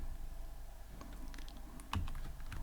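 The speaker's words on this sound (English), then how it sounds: "So I'm gonna type" Typing Python code for a tic-tac-toe game on a computer keyboard, a quick run of close key clicks with a sharper cluster of taps near the end.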